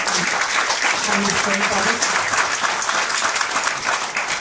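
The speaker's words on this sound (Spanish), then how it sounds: "Le damos un fuerte aplauso" Sustained applause from a live concert audience at a show at Casa del Chubut in Buenos Aires. The clapping stays dense and steady throughout while someone speaks over it.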